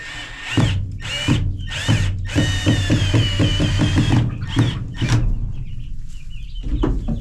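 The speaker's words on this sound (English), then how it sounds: "I'm just going to take some screws and screw it on the wall here" Power drill driving screws into a wall inside a chicken barn, heard as several short whirring bursts in quick succession, fairly close, with chickens clucking around it.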